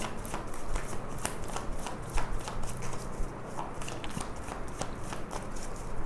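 A tarot deck, an Osho Zen set, is shuffled continuously with soft papery rustling and light card clicks, close and fairly quiet.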